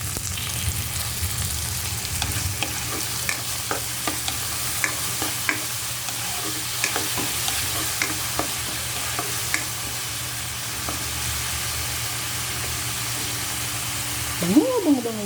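Meat and onions sautéing in a pan for a Filipino squash and string bean dish, with a steady sizzle and intermittent clinks of stirring, fairly quiet and close.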